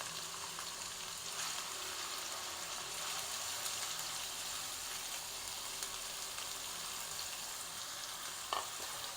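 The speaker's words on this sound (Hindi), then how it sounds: "प्याज को भी फ्राई करेंगे अब।" Finely chopped onions and green chillies frying in oil, a steady close hissing sizzle with faint stirring and one brief clink near the end.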